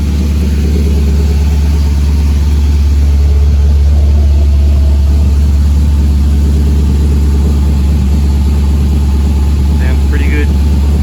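A Triumph Stag fitted with an LS1 V8 and a lumpy cam idles steadily, a loud, continuous low rumble with a slightly uneven pulse, up close, with a brief higher sound near the end.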